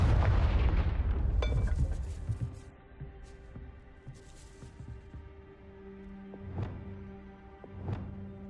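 A Confringo fire spell in the game Hogwarts Legacy, a heavy burst at the start that booms and rumbles away, then a quieter scene with a couple of smaller crackling pops.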